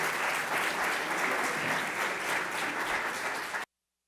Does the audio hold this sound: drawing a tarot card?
no